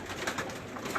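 Breeder flying pigeons give a short burst of low, rolling coos, a few soft pulses rising above a steady wash of background noise, with no talking.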